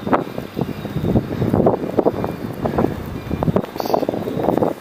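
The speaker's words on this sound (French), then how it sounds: "Il y a le vent qui se double de puissance" Strong storm wind gusting during lure fishing at Charleroi in storm Ciaran, a loud, rough roar buffeting the microphone in uneven surges that swell and drop throughout, with no voices.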